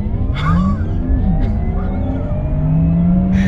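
A Porsche Taycan Turbo S electric car launches under launch control, a rising electric motor whine sweeping upward in pitch over road and cabin rumble, loud and close, with brief gasps or exclamations.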